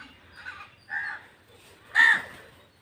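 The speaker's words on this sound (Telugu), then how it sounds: "మేము వచ్చామని కాకులు కూడా వచ్చేసినాయి ఆహారం కోసం" Three harsh crow caws ring out one after another with short gaps between, the last the loudest, over a faint background hum.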